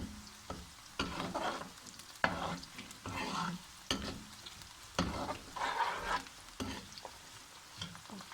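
Garlic sizzles steadily in a hot pan while someone stirs it in repeated scraping bursts, close and fairly quiet.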